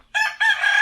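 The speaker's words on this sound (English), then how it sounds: "So you can see he got a few here, fighting roosters" A fighting rooster crows loudly and close by in a Philippine backyard, one drawn-out cock-a-doodle-doo with a short break before its long, strained final note.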